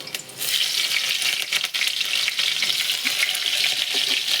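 Garlic and green chili dropped into hot oil give a sudden, loud, bright sizzle that holds steady and close throughout, with faint crackles underneath.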